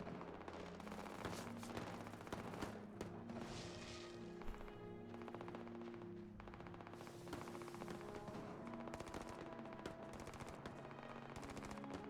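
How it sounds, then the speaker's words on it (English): Gunfire rattles in the space game Starfield as a cargo ship comes under attack. Dense, rapid bursts of automatic shots crackle almost nonstop among layered game effects, with no speech, at a quiet overall level. "They're shooting at you."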